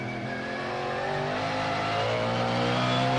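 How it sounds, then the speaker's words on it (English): A 5-litre V8 race car engine roars close by during a Transam race at Pukekohe in 1994, steadily rising in pitch as it accelerates hard on the back straight, loud and continuous throughout. "Now pulling all they can out of that 5-litre engine."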